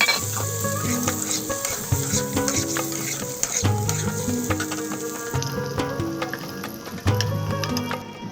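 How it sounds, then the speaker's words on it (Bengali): Potatoes frying in a kadai of oil for egg biryani, giving a loud, continuous close sizzle broken by bursts of stirring and scraping, with music playing alongside. "একই তেলে আলুগুলোও ভেজে নেব"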